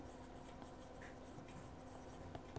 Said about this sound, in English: we're going to do a pen test with what I've got inked up